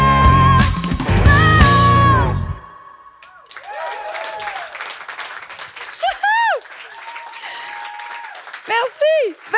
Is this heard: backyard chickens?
no